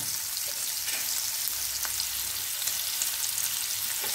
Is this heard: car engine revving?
no